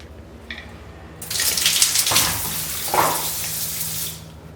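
Campsite shower operated by a pull-cord, water switching on with a sudden loud hiss and splashing steadily nearby, surging and fading in intensity.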